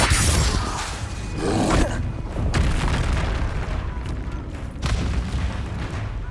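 Magical spell blasts from Hogwarts Legacy combat boom one after another in a dense, continuous barrage, with heavy low rumbling impacts and bursts layered over constant battle noise.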